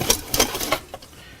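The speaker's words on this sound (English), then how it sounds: "I'm just going to take my whisk and we're going to get all that kind of loosely combined" A whisk taps and scrapes rapidly against a bowl while combining flour, spices and black pepper, a quick run of close, bright rhythmic clicks that thins out after about a second.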